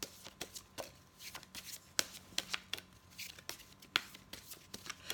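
Tarot cards being shuffled by hand, a run of crisp papery riffles and soft flicks repeating in quick irregular bursts, close and fairly quiet, with no talking.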